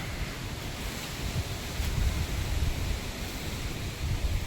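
Strong wind after a rain and hail storm, a steady broadband rush buffeting the microphone, swelling slightly partway through and continuing without talk.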